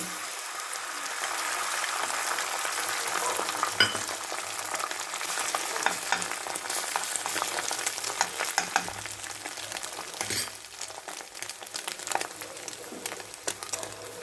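An egg frying in butter in a wok gives off a steady, close sizzle and crackle that continues without pause for the whole stretch, with no talking over it.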